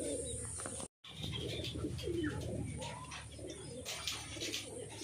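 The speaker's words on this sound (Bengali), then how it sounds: "দেখতে পাচ্ছ আপাতত 3টে পায়রা" Several pigeons, one of them white, coo repeatedly in soft, throaty rolling calls over a low background hum, fairly close but not loud, with a brief dropout near the start.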